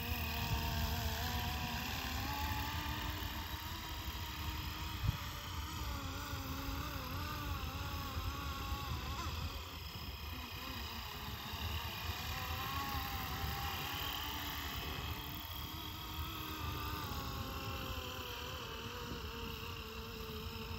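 A FlyWing Airwolf V2 450-size RC helicopter with GPS flies an automatic figure eight, its rotors and motor giving a continuous droning buzz that holds steady with slight swells as it circles at moderate distance.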